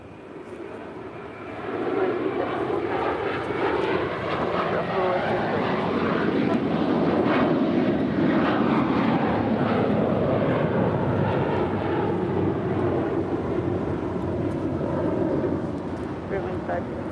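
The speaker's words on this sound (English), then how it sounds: "Here we have M-I-N-T departing to Newark Liberty on this 5-year-old A321 JetBlue Airways Flight 1874." Five-year-old JetBlue Airways Airbus A321 departing LAX for Newark, a broad steady jet engine roar that swells after the first couple of seconds and holds loud throughout, with wind buffeting the microphone.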